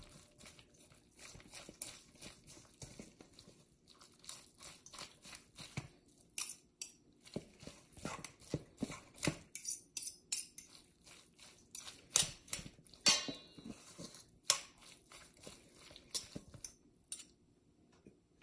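Two forks shredding pulled pork, giving quick irregular scraping and clinking taps against a dish. The strokes are soft at first and grow busier and sharper midway, with no talk.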